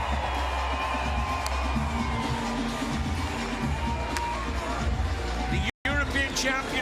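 An American crowd roars and cheers for a men's beach volleyball final win at a 2018 event, Dalhausser and Lucena against Lupo and Nicolai, a steady mass of applause and whoops under a commentator's voice.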